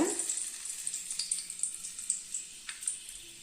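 Curry leaves fry in hot oil for pepper kaara sev, giving a steady close sizzle broken by many small irregular crackles and pops.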